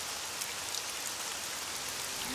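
Steady rain falls in a misty rainforest, a dense, continuous hiss of drops on foliage that holds even throughout, with no voices.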